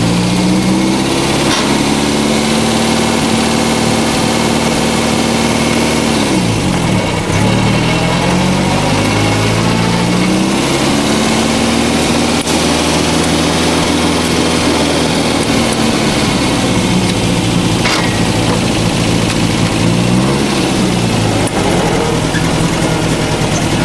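A classic MG MGA sports car engine runs loud and steady, rising and falling in pitch as it works through the gears with audible shift dips, heard close up with no talking.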